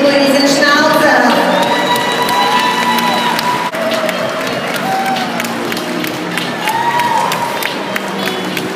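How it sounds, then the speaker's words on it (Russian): Crowd at an indoor dog show applauding and cheering for a Giant Schnauzer kennel, a continuous dense wash of clapping with raised voices and whistles mixed in. "Аплодисменты питомнику Ризеншнауцера."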